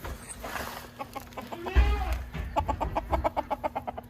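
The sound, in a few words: fluffy fancy chickens clucking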